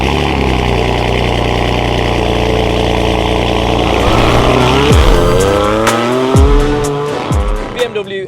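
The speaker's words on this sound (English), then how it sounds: "we're going to take this BMW M2 competition for a drive" A BMW M2 Competition with its S55 engine, rumbling at a steady mid pitch before rising and falling through several loud revs and gear changes, with a few sharp blips near the end.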